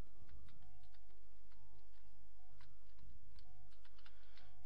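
Quick, uneven tapping on a computer keyboard while a name is typed into Pokemon Red, made up of light clicks that continue through the whole stretch over a steady low hum.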